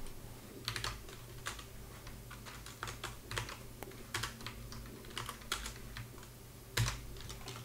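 Typing on a computer keyboard, quiet close key clicks in uneven bursts over a low steady hum, with no talk.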